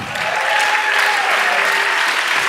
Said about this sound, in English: Let's have another round of applause for Dennis.